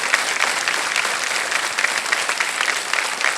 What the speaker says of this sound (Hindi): ये जो ताली है ये बड़े भैया की ओर से है।